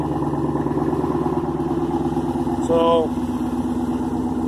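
A car engine with a muffler delete idles on a cold start in the cold, a loud close rumbling burble with a steady pulsing rhythm and a brief rise midway, and a single word spoken at the start.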